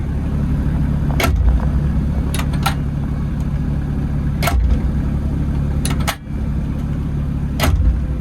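Steady low rumble of a Doosan DA30 dump truck diesel engine left running, constant and fairly loud, with occasional sharp clicks and knocks over the drone.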